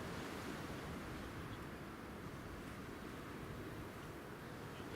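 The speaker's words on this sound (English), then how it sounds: "Saying that, it's still quite blustery in that here as well. It's very blustery." Blustery crosswind buffets a microphone at Newcastle International Airport, a constant broad roaring rush with no pauses, filling the whole scene at low level.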